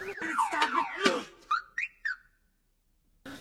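Electronic car-alarm wails and warbling whistles from a snail's shell in the animated film Turbo, a rising-falling siren pattern followed by three short chirps, then quiet and a brief final blip.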